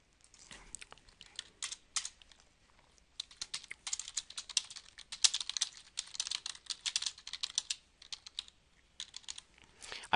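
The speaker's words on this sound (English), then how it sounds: "I can type up my email." An email is typed on a computer keyboard in fast irregular bursts of crisp key clicks, with short pauses between runs, close and fairly quiet with no voices.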